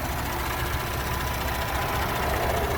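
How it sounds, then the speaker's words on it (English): A 2018 Audi SQ5 engine idling after a cold start, a steady even hum with a fine rapid mechanical patter and no change in speed. "this engine is idling very happily off of that cold start"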